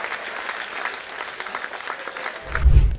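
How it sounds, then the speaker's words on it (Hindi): Audience applause at a Hindi comedy poetry gathering, steady clapping from a crowd throughout that swells briefly near the end, with a low rumble or thump at the close. "ताली बजाओ"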